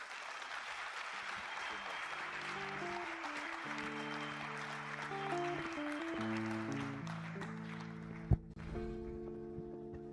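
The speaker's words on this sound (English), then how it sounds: "another rousing round of applause for our second lead paper presenter" Applause after a lecture at an international accountancy conference, steady clapping sustained for around eight seconds beneath prominent music with held tones, ending in a sharp thump.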